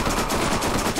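Rapid automatic gunfire in Borderlands, a continuous machine-gun stream of closely spaced shots, loud and close, with no talking over it.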